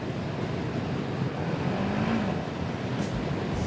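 A Chinese motorcycle's engine keeps climbing in revs with the clutch pulled in and cruise control failing to cancel. It gives a close, steady rumble with a brief rising whine in the middle.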